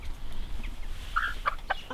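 An Araucana White Leghorn cross hen clucks softly a few times, close, over a steady low background hum.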